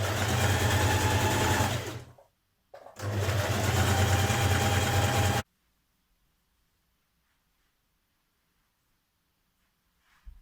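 A sewing machine stitches a straight hem along the bottom of a Burda 6222 dress, running loud and steady for about two seconds, pausing briefly, then running again before stopping, followed by near silence.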